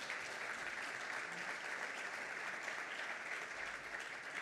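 Steady applause from a large crowd at a conference opening, a dense even wash of clapping that holds at a constant level throughout.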